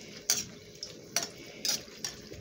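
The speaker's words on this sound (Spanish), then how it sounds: "Así los movemos para que se frían" Dried chiles stirred in hot oil for salsa macha, with a spoon clinking and scraping against the pan in a few sharp strokes over a faint, steady sizzle.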